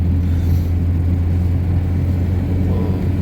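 Steady engine drone and road rumble from a VAZ Zhiguli cruising at about 90 km/h, heard from inside the car as a loud, continuous low hum with a constant tone and no speech.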